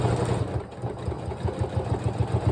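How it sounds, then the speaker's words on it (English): A sewing machine stitches a paper-pieced quilt seam along a solid line, its needle thumping in a fast steady rhythm with a low motor hum, close and without talk. "And I'm sewing right along that solid line"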